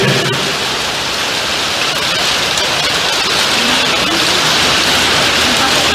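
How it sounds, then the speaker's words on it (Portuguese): Heavy rain roars steadily and loudly throughout, a dense unbroken wash of noise that fills the whole space during an indoor religious study gathering in Brazil. "Eu vou ler porque vai dar nem para todo mundo ouvir agora com a chuva"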